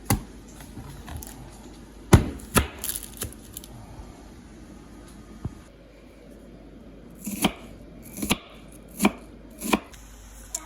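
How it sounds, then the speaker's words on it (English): Knife chopping an onion on a cutting board in a home kitchen, a series of sharp, close chops coming in irregular clusters with quiet pauses between them. "Now chop an onion."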